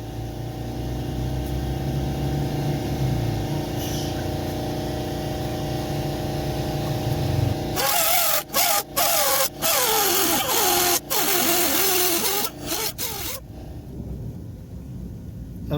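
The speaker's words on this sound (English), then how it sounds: "On to the cutting." A power cutting tool runs steadily and loudly for several seconds while cutting metal during a BMR swaybar relocation kit install on a Ford GT500, then stops and starts in short bursts before cutting out.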